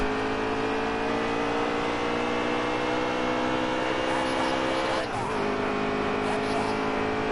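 Race cars roar around a road course in NASCAR Heat 3, their engines droning steadily with a brief whoosh of another car passing midway, under talk.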